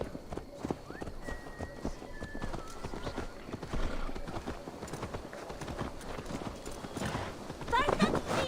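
Horse hooves clip-clopping in Assassin's Creed Valhalla, a steady walking rhythm of hoofbeats with an occasional whinny, heard under ongoing voices and game ambience.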